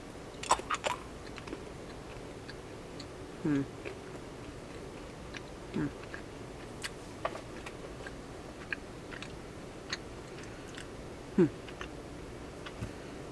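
Someone chewing a cinnamon-flavored candy from a plastic surprise egg: a few soft, close crunches and bites scattered sparsely through otherwise quiet room tone.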